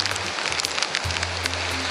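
Steady rain pattering in the Peruvian mountains at high altitude, a dense close hiss filling the moment without pause, with a low hum running underneath.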